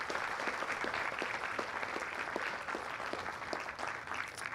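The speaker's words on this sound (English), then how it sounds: "Let's give them a round of applause." Audience applause at a Veteran's Day ceremony, a fairly quiet, steady patter of many hands clapping, heard from some distance with no voices over it.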